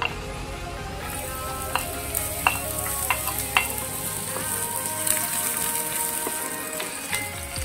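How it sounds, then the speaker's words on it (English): Garlic frying in oil in a pan, a steady close sizzle with occasional clinks and scrapes of a utensil stirring. "Maglagay tayo ng oil. Lagay natin yung garlic."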